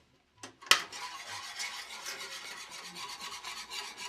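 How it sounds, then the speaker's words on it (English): A utensil stirs a Valentine's Day treat mixture in a pot, starting with a couple of sharp knocks against the pot, then a continuous scraping, rasping stir that carries on steadily at close range. "And we're going to stir this."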